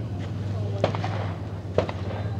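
Pistol shots during a speed shooting stage at the Cowtown Classic match, two sharp reports about a second apart over steady outdoor background noise.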